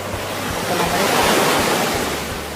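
Sea waves wash onto a beach on a warm evening, a steady close roar of surf with wind buffeting the microphone, swelling slightly in the middle and holding throughout.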